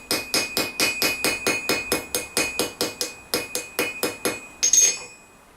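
A hammer taps a metal armor hinge in a steady run of about sixteen bright, ringing strikes at an even pace, close and clear, finishing with one heavier blow.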